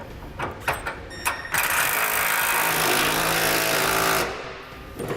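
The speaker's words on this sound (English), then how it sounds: "we can tighten up the bolts on the outside of the frame as well" Bolts on a fifth wheel underbed kit's frame brackets being tightened on a 2017 Ford F-350: a few short rattling bursts, then a loud, sustained rattling impact-wrench hammer lasting several seconds, close by, ending in quieter clatter.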